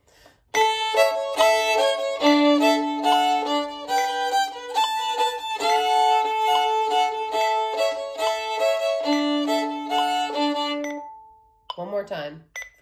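Fiddle plays the first three strains of the tune Rock the Cradle Joe alone, a steady run of bowed notes for about eleven seconds, then stops and a brief faint sound follows.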